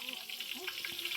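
Cumin seeds sizzling in hot oil, a steady bright crackle and hiss with small pops throughout, fairly close and alone.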